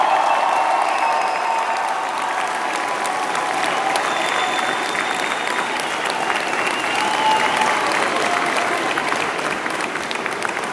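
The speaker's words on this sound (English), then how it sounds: "I ask your friends and family to join me in applauding the incredible graduating class" A large convocation audience of friends and family applauds a university's graduating class, steady dense clapping filling the hall without pause, loud and continuous throughout.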